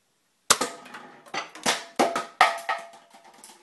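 Series of sharp plastic clacks and snaps from a Nerf N-Strike Elite Alpha Trooper CS-12 blaster being cocked, several close, loud clicks in uneven rhythm.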